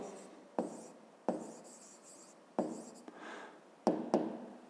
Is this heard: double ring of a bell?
no